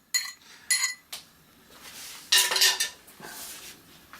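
A spoon stirs milk into scone mixture in a bowl, making several distinct clinks and scrapes against the dish in short bursts with quiet gaps between.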